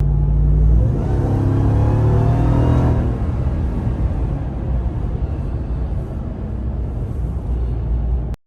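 A 2021 Ram 1500 TRX with a supercharged Hemi V8 gives a loud, close engine roar and deep rumble, with a rising whine as the supercharger spools before settling into a steady drone.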